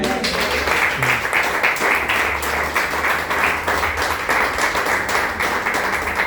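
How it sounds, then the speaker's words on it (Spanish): A church congregation applauding, dense continuous clapping with music and voices mixed in. "Denle un aplauso al Señor."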